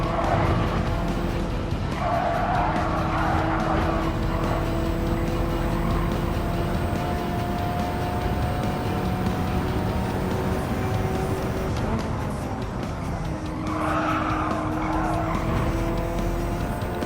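Race car in Gran Turismo 7 driving hard, its engine note rising and falling steadily throughout while two bursts of tire squeal break through near the start and again toward the end.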